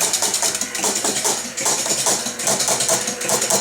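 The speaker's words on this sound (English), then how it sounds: "Start the score wheel running." Score wheel motor of a Blue Max pinball machine running steadily, a continuous close whirring hum with faint repetitive mechanical ticking throughout, no talk.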